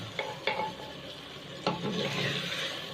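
Beef keema fries with onions in a pan under a soft sizzle, with a few sharp scrapes from a spatula stirring the mixture.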